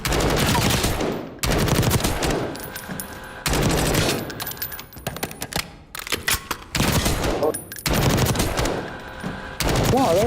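Dense gunfire in Call of Duty Warzone, with loud sustained automatic bursts broken by brief pauses, close and continuous across the stretch.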